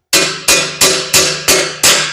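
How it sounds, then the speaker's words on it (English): A hammer striking a header tube on a 1983 Mustang GT Fox-body with a big-block engine: six loud, evenly spaced metallic blows close up, each ringing briefly before the next. "Where's my hammer? Hammer."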